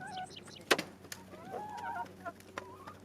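Backyard flock of chickens clucking and squawking nearby, a scatter of short rising calls and a few sharp cackles, fairly faint, with no talk.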